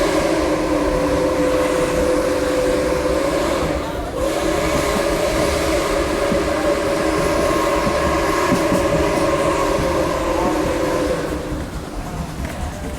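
Nickel Plate Road 765 steam locomotive sounds a long, loud, steady chime whistle while the train rumbles past close by, with a brief dip mid-blast and rolling rail noise continuing underneath.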